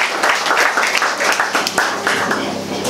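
Church congregation clapping during a worship service, a loud, rhythmic wash of hands under voices and singing.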